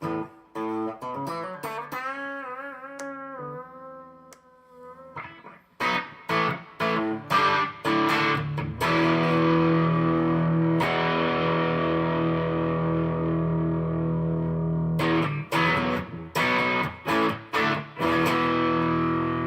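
Distorted electric guitar through a Lawrence pedal and reverb, in single-coil mode, plays picked notes and sustained chords with reverb tails, including a long ringing chord, then staccato strums at the end.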